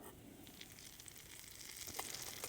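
Steak sizzles over hot coals at an outdoor truck-side cookout, a steady broadband hiss with faint crackles and occasional soft clicks as the meat is turned, growing slightly louder toward the end.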